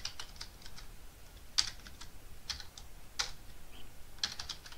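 Keystrokes on a computer keyboard while a command is typed, a quiet, irregular patter of light clicks with a few sharper taps, close by and with no speech.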